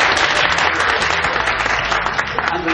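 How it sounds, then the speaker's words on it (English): Loud, dense applause from an event audience, steady and continuous throughout with no voices rising above it. "I should be getting a round of applause"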